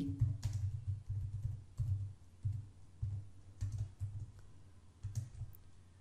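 Code is typed on a computer keyboard: close, uneven bursts of key clicks with brief pauses between groups, and no talking.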